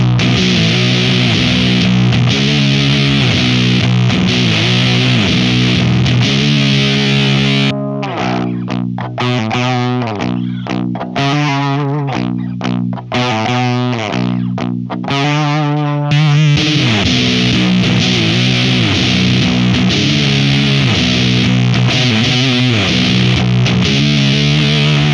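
An electric guitar played through Fuzzcoven and Doomcaster fuzz pedals, giving thick distorted chords and riffs that ring loud and sustained, with a cleaner, sparser passage in the middle before the heavy fuzz returns.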